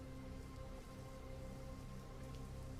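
Steady rain pouring down as storm ambience, a dense unbroken hiss of drops at an even level with no other sounds.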